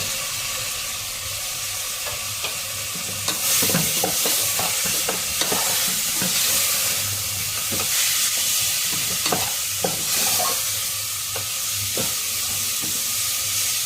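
Tomatoes and coriander go into a hot pan of noodle-dish base with chicken stock, sending up a bright steady sizzle broken by repeated scrapes and clanks of stirring, close and fairly loud, with no talking.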